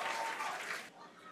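A crowd at a Starship launch viewing cheers and claps as the ship's flaps still maneuver during re-entry, a dense excited roar that drops off sharply near the end, leaving quieter murmur.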